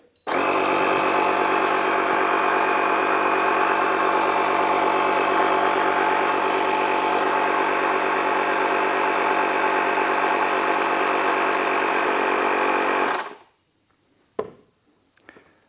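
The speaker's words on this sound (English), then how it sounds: "insert your needle into the valve stem, and hit play" A ShockFlo cordless portable 150 PSI air compressor inflating a basketball: a loud, steady motor drone with a dense buzzing hiss runs unbroken for about thirteen seconds, then cuts off abruptly, followed by a few faint clicks.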